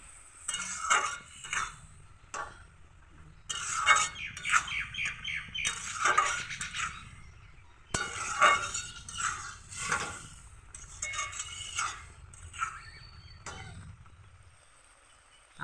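Dried fish and tomato curry being stirred in a pan, with repeated scraping and clinking of a utensil against the metal, irregular bursts close up, no talking.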